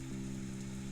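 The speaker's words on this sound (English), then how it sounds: "The sound of the sacred rain soothes and calms you." Steady rain falls evenly over a low, sustained droning hum, an unbroken wash of hiss for the whole second with no other events.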